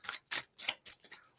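A deck of tarot cards being shuffled, heard as about six quick, crisp riffling bursts in a steady rhythm, close and clear with no talk.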